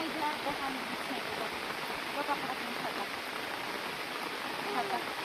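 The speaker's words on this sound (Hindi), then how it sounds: "बाबू ऐसे बारिश में थोड़ी ना देखेंगे।" Steady rain falls outdoors in a village, a dense even hiss of drops with faint voices murmuring underneath throughout.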